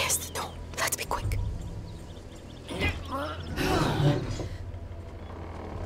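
A door in the video game A Plague Tale: Requiem creaks open with a long, strained wooden groan and mechanical rattles under a whispering voice, with louder clatter and creaking swelling toward the end.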